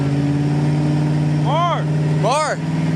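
A lifted 2015 Chevy Silverado held in first gear drones steadily up close, then gives two quick rev blips that rise and fall in pitch, with voices nearby.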